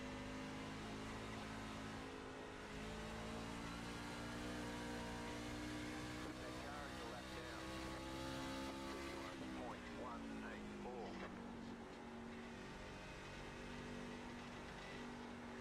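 Chevrolet Silverado race truck engines scream at Phoenix in an iRacing sim race, a loud sustained roar with rising and falling pitch as throttle shifts, other trucks close by, and a driver talking over it.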